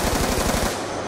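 Rapid automatic gunfire in Call of Duty Black Ops 2 rattles in a fast, steady stream of close, loud shots for about a second, cutting off abruptly near the end.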